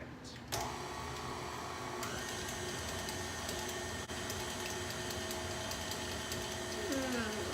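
An electric mixer beats oatmeal cookie batter in a bowl, a steady close mechanical whir that holds level throughout, with a small shift in pitch partway through as the speed changes.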